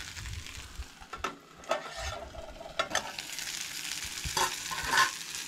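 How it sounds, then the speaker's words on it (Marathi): Cauliflower pieces frying in a pan until crisp for a Goan home-cooked meal, a steady close sizzle broken by repeated scraping stirs, with no talk. "आमचो फ्लावर न्हय फ्राय जालो पळयात."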